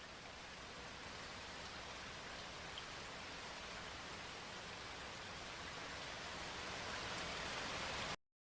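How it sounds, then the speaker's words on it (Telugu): Steady light rain falls continuously with an even, dense hiss of drops on outdoor surfaces, no voices, until it cuts off abruptly at the end. "ఇక్కడ మార్నింగ్ నుంచి వర్షం స్టార్ట్ అయిపోయింది."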